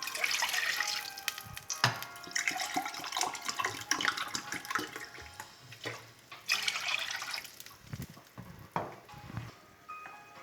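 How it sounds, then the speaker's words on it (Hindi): Water poured from a glass into a cooking pot for biryani rice: a steady splashing, gurgling stream lasting several seconds with brief pauses between pours, close and fairly loud, no talking. "तो मैं इसमें पानी थोड़ा सा कम ऐड करूँगी।"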